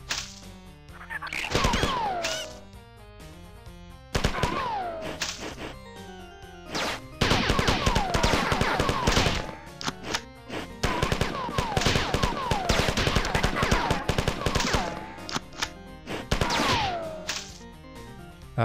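Gunfire from a weapon in the video game Marathon, rapid bursts of sharp shots in clusters separated by brief pauses, loud and close, mixed with game sound effects and music.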